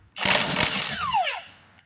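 A socket wrench backs a 9/16 bolt out of the fan impeller on a PECO mower leaf vacuum, giving a loud whirring burst of about a second that rises and fades close by.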